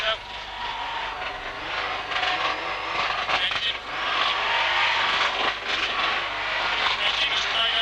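A Ford rally car engine at the 1996 WRC Indonesia rally roars steadily at high revs, with broad mechanical noise and a co-driver's voice talking over it throughout.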